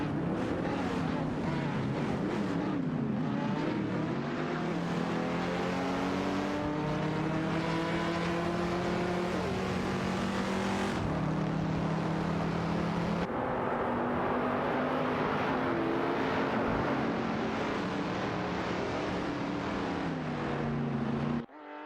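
AI-driven race cars in a racing video game roar past in a steady, loud engine drone, with pitch rising and dropping through gear shifts and passes, under occasional commentary.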